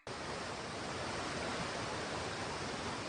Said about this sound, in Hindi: अरे बाप रे, नदी में पानी कितनी तेजी से बढ़ रहा है।